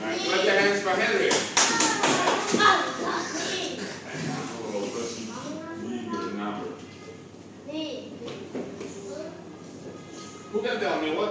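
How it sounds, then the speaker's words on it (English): Kindergarten pupils in an ESL math class in Vietnam clap their hands in a quick burst near the start, followed by children's voices, shuffling and light taps around the classroom. "clap your hands for Henry"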